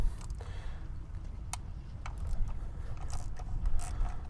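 A ratcheting wrench clicks in short bursts while loosening the bolts on a Yamaha outboard carburetor, close but fairly quiet over a steady low background rumble.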